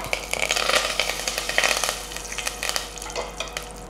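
Mustard seeds splutter and crackle in hot oil in a pan, a steady close crackling sizzle with scattered sharp pops throughout and no talking.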